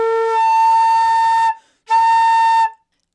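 Breathy flute tone played with a smiley embouchure pulled away from the lip plate, leaking air: two sustained notes with a hissy, airy edge over the pitch, separated by a short gap, loud and close.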